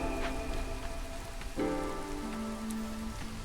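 Steady rain pattering on surfaces in the video game Against the Storm, a dense continuous hiss with faint tonal game music underneath and no talking.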